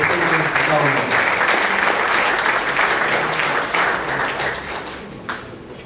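Audience applause at a conference on investment project financing, steady dense clapping from a crowd throughout, loud and sustained before tapering slightly near the end.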